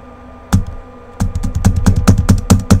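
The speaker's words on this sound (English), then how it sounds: "That is the sound of me pushing interact buttons." Interact buttons pressed in the horror game Spooky's House of Jump Scares, a quick series of sharp clicking taps, one early then about eight in an uneven, fast rhythm, close and clear with no talk.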